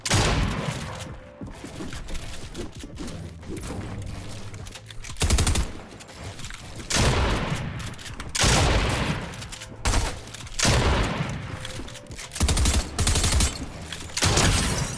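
Rapid bursts of gunfire from Fortnite combat, loud and repeated in clustered volleys across the whole span, with intense automatic fire punctuated by short pauses and no talking.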